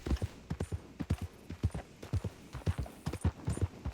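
Horse hooves clip-clop in a steady, quick rhythm in the Red Dead Redemption 2 video game, crisp close thuds repeating evenly without pause.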